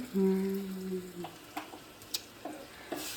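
Dried red chilies fry in a pan with a faint, low sizzle broken by a few sharp pops and light stirring ticks.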